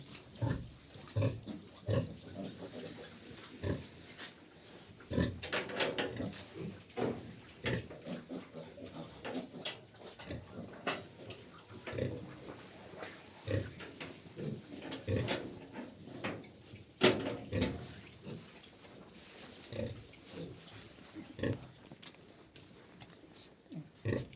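Piglets and pigs in a pigsty grunt, snuffle and eat in frequent short bursts, with occasional clanks of feeders or metal pens, fairly close and quiet overall.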